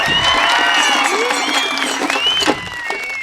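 An audience at a wrestling-related public event claps in a steady burst of applause, fairly close and continuous, with a voice briefly audible over it.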